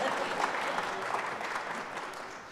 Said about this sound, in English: We're clapping for the Yankees tonight?